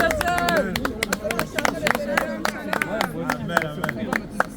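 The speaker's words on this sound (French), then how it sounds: "On acclame pour le Seigneur." A crowd at a French Christian evangelism gathering in Paris claps in a fast, uneven rhythm and cheers to acclaim the Lord, with loud voices and babble mixed in throughout.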